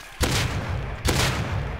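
Two loud revolver shots in the survival video game Rust, sharp booming blasts about a second apart with a dense ringing tail after each, close and alone.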